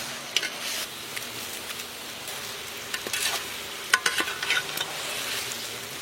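A large batch of chicken, about five kilos, fries with sautéed tomatoes in a big pot, a steady sizzle broken by scraping stirs and clanks of the utensil, with no talk.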